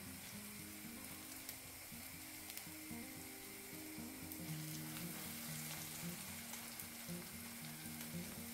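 Large meat patties frying in a pan for an old-style dish called bear's paw, a soft, even, continuous sizzle heard alone with faint crackles and a small bump at the very end.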